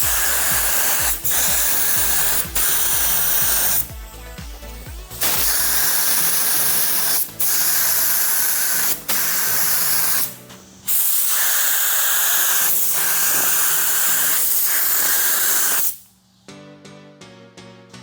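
A paint spray gun shoots clear coat onto a Ford Lightning pickup, a loud close steady hiss in long passes broken by brief pauses and trigger releases.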